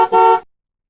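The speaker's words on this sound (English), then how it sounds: "Right, a car horn." Car horn giving two short, loud honks, a brief toot followed by a slightly longer blast, alone and close by.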